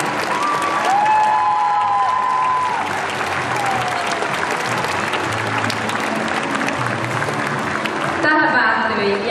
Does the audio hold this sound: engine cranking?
no